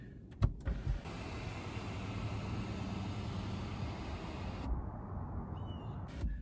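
An electric motor hums steadily for several seconds, a smooth whir as the panoramic sunroof of a Porsche Macan S slides open, with a few clicks at start and end.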